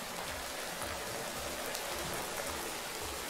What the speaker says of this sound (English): Oh, the rain is so loud.